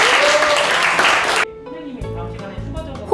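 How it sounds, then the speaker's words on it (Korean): Students in a classroom clap for a classmate in a brief, thick burst that stops abruptly after about a second and a half. Quieter tonal sounds and faint voices follow. "종광에게 모두 박수 한번 쳐볼까요?"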